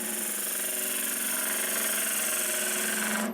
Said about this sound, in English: Feather the bevel, push the handle away from you, put the tip of the tool in. Just pick that cut up.